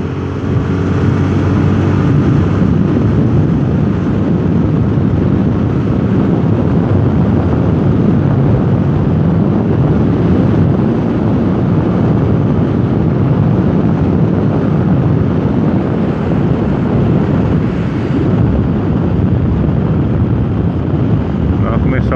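A car accelerating along the Mogi-Dutra highway in Brazil, heard from inside as a loud, continuous broadband road and engine roar with wind noise, steady throughout.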